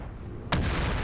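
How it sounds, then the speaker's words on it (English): A big cannon in a war video game fires one sudden heavy boom midway, followed by a loud rumbling roar that carries on to the end. "Oh, the big bad cannon's over here."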